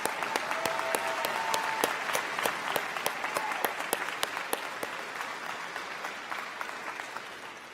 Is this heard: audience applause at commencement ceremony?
yes